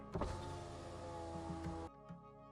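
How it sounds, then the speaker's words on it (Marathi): A car's electric window motor whirs steadily as the glass slides down, then stops abruptly with a soft clunk, followed by faint quiet knocks. "सम्राटने गाडीची काच खाली घेतली"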